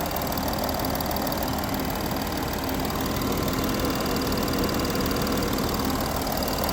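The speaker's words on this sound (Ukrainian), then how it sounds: "Двигун працює рівно." A 2013 Volkswagen Touareg with a 3.0 diesel engine idles steadily and evenly, its low, constant hum and clatter running close by for the whole stretch with no talk over it.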